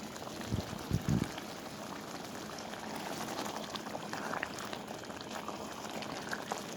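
Dal palak bubbling in a pot over a high flame, a steady close simmer with a few louder plops near the start.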